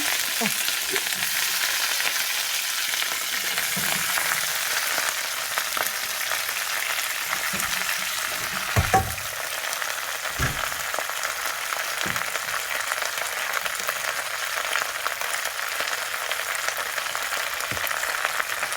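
Bok choy frying in a hot pan for noodles with eggs, a continuous bright sizzle with occasional soft thumps and scrapes of stirring, close and steady, no talking.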